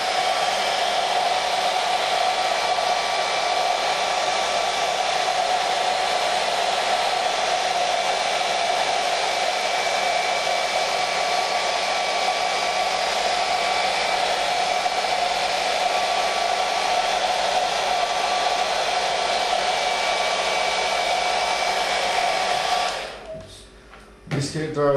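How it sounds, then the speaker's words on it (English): A weak hair dryer blows steadily at close range, heating vinyl decals on a 2009 Honda Fireblade gas tank, with a constant whirring hiss, cutting off abruptly near the end. "This hair dryer is a little bit weak"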